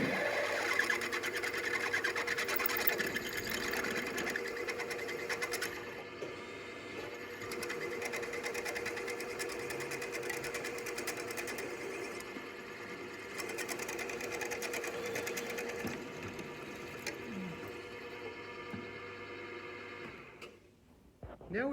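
Drill press boring a 10.2 mm hole through a head bolt while making a folding shovel, a steady close mechanical whir and hum that runs almost the whole time and stops near the end.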